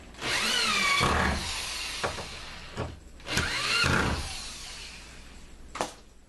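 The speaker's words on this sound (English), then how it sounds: "my drill, kind of hold it from the rear, and get my screws in" A power drill whirs in two long bursts driving screws into wood, pitch rising and falling, with brief clicks and short spins between.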